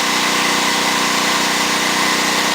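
A 9,000 watt generator engine that has just had its carburetor repaired runs at a steady, even pitch. The drone stays loud and constant with no one talking over it.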